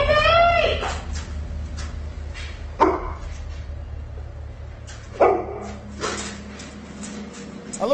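A dog barks and yips in short, sharp bursts while checking a door in a quiet house at night, a few loud barks standing out over a low steady hum.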